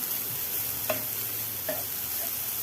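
Grated jaggery with cardamom powder is stirred and fried in a pan for coconut karanji filling, giving a steady soft sizzle with occasional scraping stirs, close and alone.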